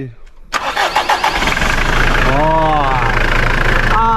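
An engine cranks and catches, then settles into a loud steady idle with mechanical rumble and a rising whine, close by, with voices over it.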